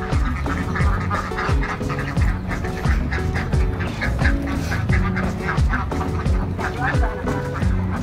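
A dense chorus of ducks on a duck farm quacks constantly and close by, many birds overlapping in a busy, unbroken din.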